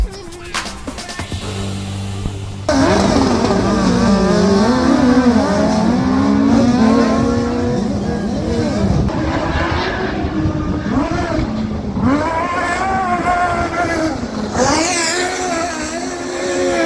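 Speedway motorcycles lap the track at a practice night. Loud, continuous engine roars rise and fall in pitch as the bikes accelerate and pass, with one steady drone under faint background voices.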